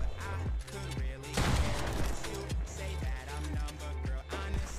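Shooter video game gunfire crackles in rapid bursts and steady repeated shots, backed by a rhythmic low thumping beat. Most of the shots sound fairly close, and there is no talking.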